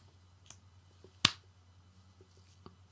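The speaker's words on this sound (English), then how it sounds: "That was the sound of the coin flicking." A single sharp, bright flick of a coin snaps out close by against a quiet room with a low hum, with only a few faint clicks around it.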